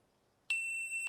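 A Novritsch Bluetooth timer target sounds a single loud, clear electronic beep that holds steady for about half a second, close to the microphone, with no talking.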